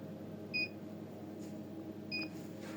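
Two brief electronic beeps from an egg incubator alarm after opening, each a quick paired tone, about a second and a half apart over a steady low machine hum.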